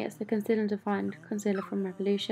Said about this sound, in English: That is my dog trying to get out the door.